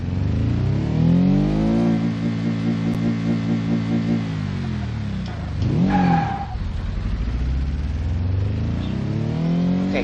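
SPR4, a rear-engined car in BeamNG.drive with a broken exhaust, revs loud and close with rising and falling engine pitch through the clip, plus a brief skid-like squeal near the middle.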